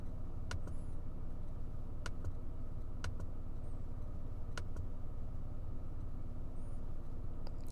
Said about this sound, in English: The shift lock is the clicking noise you hear when you press the brakes while the vehicle's in park